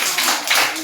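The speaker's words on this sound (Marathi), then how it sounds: "चला आता टाळ्या वाजवा जोरात" Children clap their hands together during an activity session, a short burst of quick, fairly loud claps with no talk.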